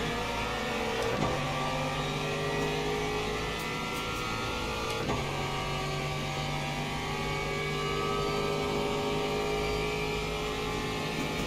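Le Mans Ultimate racing game: LMP2 and Hypercar prototype engines droning steadily at high revs, a continuous layered hum with a couple of brief passing surges, moderately loud and without talk.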